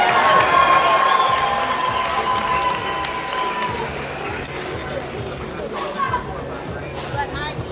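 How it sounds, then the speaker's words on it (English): Applause and cheering break out at a night-time finals awards ceremony as promoters are recognised. The loud clapping fades slowly, with crowd chatter and a few shouts rising above it. "You guys can cheer for them too, it's okay."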